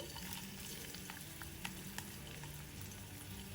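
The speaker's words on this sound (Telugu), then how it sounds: "ఇప్పుడు ఆయిల్ వేడయ్యాక 5-6 వెల్లుల్లి గబ్బాలని ఇలా దంచి వేసుకోండి" Crushed garlic sizzles in hot oil in a pan, a faint, steady crackling fry with a few light stirring clicks, heard close and without speech.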